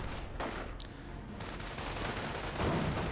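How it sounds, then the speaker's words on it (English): A rocket artillery barrage in a Company of Heroes match, heard as a distant, low-level rumble of rapid blasts and crackling impacts that swells louder near the end. "Another rocket artillery barrage."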